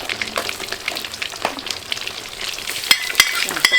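Fish sauce stir-fries in a hot pan for a tamarind sauce dish, giving a close, steady sizzle with a few sharper clicks and scrapes of stirring near the end, and no talking.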